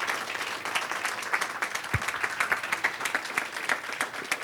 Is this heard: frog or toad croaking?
no